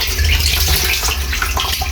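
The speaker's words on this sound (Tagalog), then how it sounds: "Dadagdagan na natin ng tubig." Water pours steadily into a drum used for raising catfish, a continuous loud gushing splash with a low rumble running the full two seconds, no voices over it.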